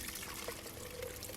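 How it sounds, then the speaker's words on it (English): Homemade almond milk from an Omega juicer is poured through a sieve, a steady soft trickle and splash of liquid running continuously without a break. "So let's go ahead and pour this one through the sieve."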